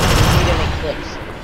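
Rapid automatic fire from a deployed sentry gun in the top-down shooter Alien Swarm, a loud dense rattle of shots with a voice talking underneath.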